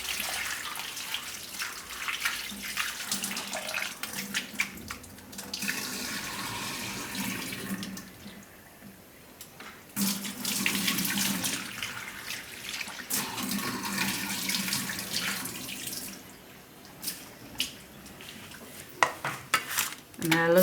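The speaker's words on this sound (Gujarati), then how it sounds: "તેલ ગરમ થાય ત્યાં સુધીમાં આ સક્કરિયાને આપણે એકવાર ધોઈ નાખશું" Sweet potatoes and garlic are rinsed under a running kitchen tap, water gushing and splashing in bursts with clinks of a metal vessel and utensils, close and fairly loud, broken by short quiet gaps.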